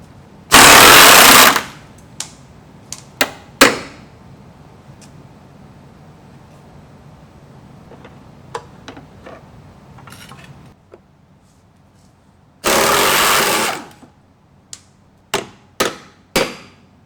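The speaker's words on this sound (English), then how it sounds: "We're gonna go ahead and remove these bolts right here on the side, on both sides." An impact wrench works on the rear suspension cross member bolts of a Mk4 Volkswagen, with two long loud rattling bursts, several sharp clanks and knocks between them, and quieter handling noise in the gaps.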